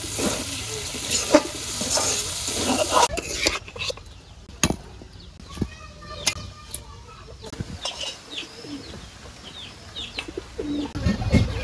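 Vegetable bhaji with coriander leaves fries in a village kitchen pan, with a soft sizzle and intermittent scraping stirs and clanks while chickens and birds call in the background.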